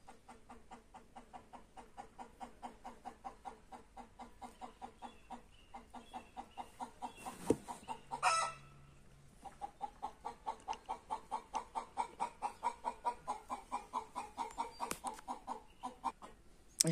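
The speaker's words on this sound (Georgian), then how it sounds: "ეს ქათამი თუ ჩაიგდებს ენას" A chicken clucks in a steady, rhythmic series of close, moderately loud calls that pause briefly midway, then resume in a rapid run.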